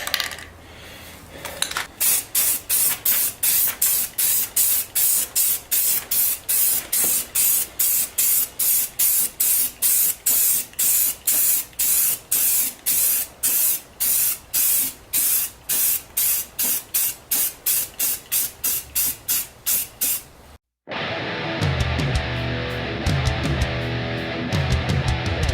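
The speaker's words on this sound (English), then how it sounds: "And some filler primer while I still got some daylight." A spray gun lays filler primer on a 1959 Ford truck body in repeated short hissing bursts at a steady rhythm for about twenty seconds, followed by a brief pause and different rattling work noise.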